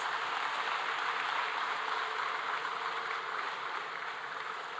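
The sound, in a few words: audience applause for MS graduates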